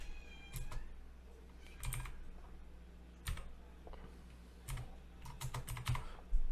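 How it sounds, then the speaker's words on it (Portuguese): Keys clatter on a computer keyboard while text is typed into the InShot app, in short bursts of quick clicks separated by pauses, close and moderately quiet over a faint steady hum. "vou escrever aqui o texto que eu quero colocar"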